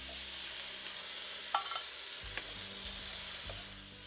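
Pork and pineapple chunks for sweet and sour pork fry in a pan with a steady close sizzle, broken by a few clinks and scrapes of stirring, no voices.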